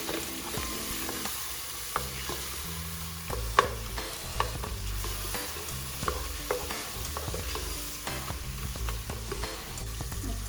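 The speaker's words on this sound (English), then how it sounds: "We mix it well before we add the final herbs and Ghiya" Bottle gourd (lauki) sabzi sizzles steadily in a pan while a spoon stirs it, with soft scraping and occasional sharp clicks against the pan over a constant frying hiss.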